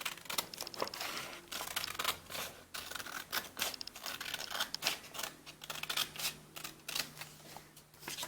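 Scissors snip through a square of origami paper up close, a quiet run of crisp cutting strokes and slight paper rustle in an irregular rhythm.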